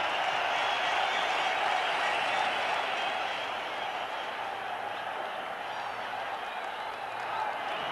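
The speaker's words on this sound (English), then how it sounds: "This crowd roars." A large stadium crowd at a 1992 or 1996 World Cup cricket match between India and Pakistan roars after a boundary, a steady, dense wall of cheering and applause that holds loud throughout.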